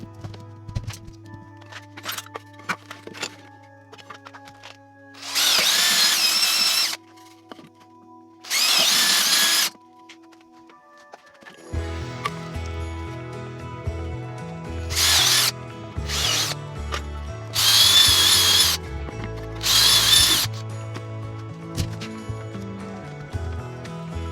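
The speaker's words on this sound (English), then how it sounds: "I'm ready to start drilling all the holes to accept all the bolts" Bursts of a power drill boring into material come in several short runs, loud and close, separated by clattering and handling noises.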